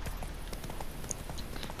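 Horse hooves clip-clop at a quick trot in The Witcher 3: Wild Hunt, with a faint bright chime over a steady low ambient bed.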